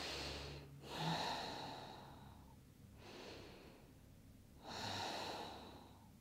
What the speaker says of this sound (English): breathe deep in and out through the nose